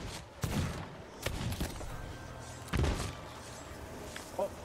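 Gunfire in the pirate video game Sea of Thieves, a few sharp shots spaced apart and aimed at the player, heard amid game ambience with a voice speaking over it.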